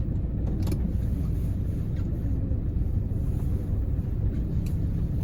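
A 1994 Land Rover Discovery 300Tdi reverses on a snowy, icy road, giving a steady low engine and road rumble with some wind buffeting on the microphone and no voices.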